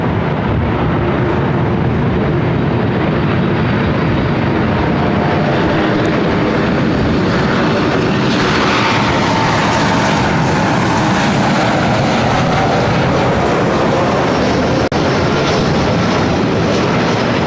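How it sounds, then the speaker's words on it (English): Loud, close jet roar from a United Airlines Boeing 737 MAX 9 arriving at LAX from Chicago, steady throughout with a rising whine that sweeps through the middle as it passes. "This next arrival is United Airlines flight 2331 coming in from Chicago on the MAX"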